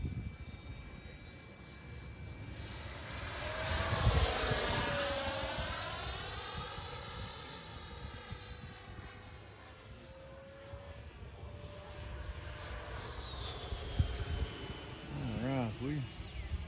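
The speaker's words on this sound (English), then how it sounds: "it's a good flying airplane." A Freewing F-5 80mm electric ducted-fan RC jet airplane flies past, its steady whine rising and falling with a pronounced Doppler sweep as it passes nearby, moderately loud over outdoor background.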